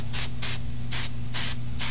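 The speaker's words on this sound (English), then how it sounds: "what we're going to do now is we're going to primer them" Primer paint sprays in five short hissing bursts from a can onto clamps hung on a string, with a low steady hum underneath and no talk.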